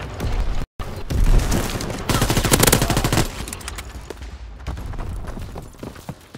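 Dense bursts of automatic and rifle gunfire from a World War II battle in Call of Duty: WWII, loud and continuous with rapid overlapping shots, a brief dropout near the start, and scattered explosions.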